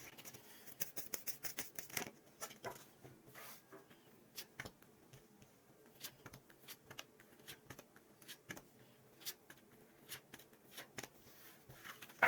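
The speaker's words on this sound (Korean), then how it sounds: "카드 뽑겠습니다." Tarot cards being shuffled and drawn from the deck, with soft rapid riffling and flicking at the start, then scattered light taps and slides, quiet and close, with no voice.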